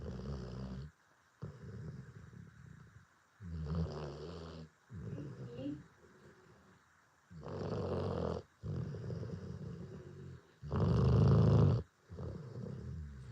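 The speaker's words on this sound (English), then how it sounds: "Little guy snoring." A small dog snores close by, with slow rhythmic rasping breaths in repeated bursts separated by quiet pauses, some louder and deeper than others.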